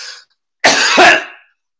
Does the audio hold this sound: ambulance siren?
no